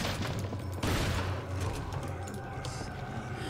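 Gunfire in the Resident Evil 4 HD video game, a sustained dense burst of shots running throughout over low in-game rumble, with one sharper louder crack near the start.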